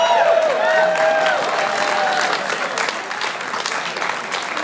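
Audience at an outdoor downtown music festival applauding after a set, dense continuous clapping with a few cheers and whistles, fading slightly toward the end.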